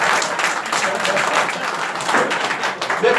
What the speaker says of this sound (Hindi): जरा इसके लिए भी ताली होनी चाहिए।